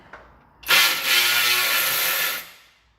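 A cordless power ratchet spins out a bolt during engine removal on a Ford F-150 with a 3.5 EcoBoost, one close mechanical whirring burst of about two seconds after a faint click, then fading out.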